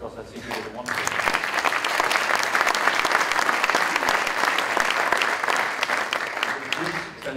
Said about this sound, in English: I first of all want to have an applause for him